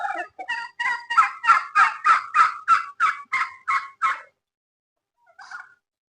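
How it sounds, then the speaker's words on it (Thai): Farm-raised turkeys gobble in a rapid run of about a dozen loud, evenly spaced pulses, then fall quiet before one brief, fainter gobble follows; no voices are heard. "อันนี้เป็นไก่งวง ไก่งวงที่เพิ่นเลี้ยงอยู่ในฟาร์มของเพิ่นเนาะ"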